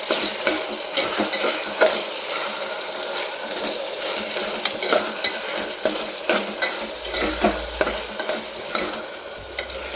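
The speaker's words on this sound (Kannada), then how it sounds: "ಅದು ಹಸಿ ಸ್ಮೆಲ್ಲೆಲ್ಲ ಹೋಗೋವರೆಗೂ ಚೆನ್ನಾಗಿ ಫ್ರೈ ಮಾಡ್ಕೋಬೇಕು." A spoonful of ginger garlic paste fries in oil for a vegetable pulao, sizzling softly close up while a spatula repeatedly scrapes and taps the pan in an irregular rhythm, with no voices.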